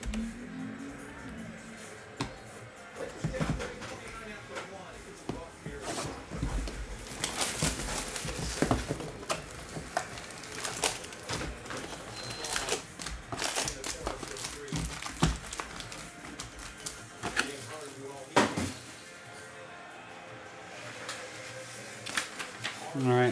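A printer feeds out a printed list of basketball card break names, with rapid clattering and mechanical ticking bursts throughout, mixed with paper rustling while a person talks over it.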